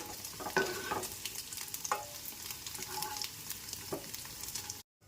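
Paneer cubes frying in oil in a pan, a steady soft sizzle with occasional stirring scrapes and light taps, fairly quiet and close, with no voices.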